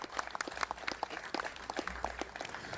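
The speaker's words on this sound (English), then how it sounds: "Another nice round of applause." Scattered applause from a small group at a bridge ribbon cutting, loose, uneven claps continuing for a few seconds at moderate volume.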